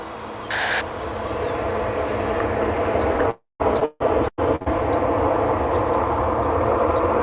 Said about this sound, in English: You're listening to the unique cacophony of jet engines and lawnmowers.